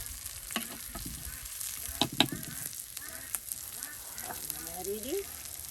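Broken rice (khud) frying and being stirred in a pan for a traditional Mymensingh dish; a soft continuous sizzle with scraping stir strokes and a few sharper clinks, close up, no talk.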